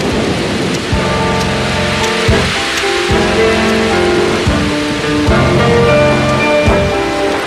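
Steady heavy rain pours throughout, marking the biblical deluge, with low rumbling thunder swells surging and fading repeatedly beneath the constant hiss.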